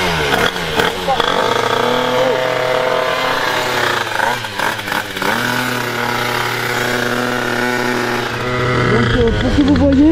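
A Mach-G 70cc 2Fast scooter engine revs hard and loud with the throttle, its buzzing pitch climbing, dipping and climbing again across the clip, close up and continuous.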